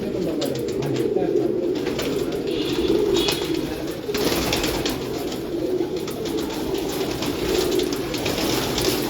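Rooftop pigeons coo steadily and close together in a continuous, overlapping murmur that lasts throughout, with no talking.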